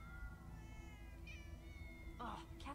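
Cats meow in Minecraft Story Mode, a couple of plaintive rising calls over a droning background, faint and somewhat distant.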